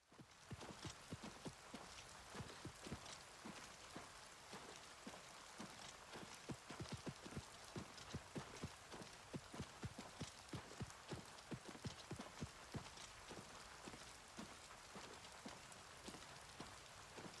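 Steady rain in the video game Oblivion Remastered, a dense continuous patter of drops falling on surfaces, even and unbroken throughout with no talk.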